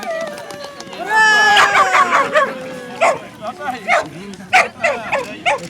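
A dog yelps and barks several times at a coursing award ceremony for sighthounds such as whippets and Italian greyhounds at the Russian Cup, sharp and fairly close, over steady crowd chatter and voices.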